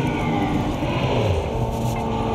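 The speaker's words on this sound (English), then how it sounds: "I assume this train is taking us to the first station." Train ride in the video game Alien Isolation: a steady, dense mechanical rumble and whoosh of the moving train, continuous and loud throughout with no speech.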